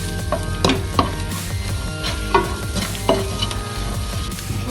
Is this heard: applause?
no